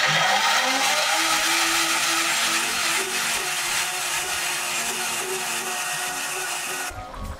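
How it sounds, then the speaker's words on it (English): A blender runs steadily on red peppers for a soup, with a loud and constant motor whir that stays close and even, then cuts off with a knock at the end. "About to blend the peppers, and we're doing the red peppers."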